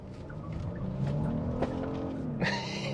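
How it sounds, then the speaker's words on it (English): Tires on 22-inch wheels squeal briefly under the rumbling engine of a 2024 Genesis GV80 SUV accelerating in city traffic, with a sharper chirp near the end. "I heard him squealing at the back to maintain traction"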